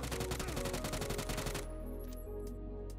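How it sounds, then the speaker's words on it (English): Rapid automatic fire from a UMP45 submachine gun in PUBG, a dense burst of shots for about a second and a half that then stops, leaving a lingering low rumble and faint tail. "using a UMP for long-range sprays is very possible and super fun"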